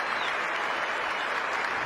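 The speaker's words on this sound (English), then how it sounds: "Applause all the way around the ground." A large cricket crowd at Lord's applauds steadily, a dense wash of clapping that fills the whole moment without letting up.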